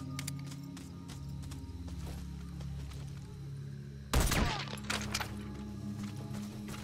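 Silenced sniper rifle shots in Metal Gear Solid V, aimed at spotlights: a sharp suppressed crack with a brief burst of impact noise, then a lighter follow-up, over a steady low ambient hum.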